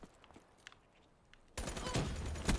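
Burst-fire weapon gunfire in Black Ops 3 multiplayer: faint distant shots at first, then a sudden loud sustained stretch of rapid close firing through the final second.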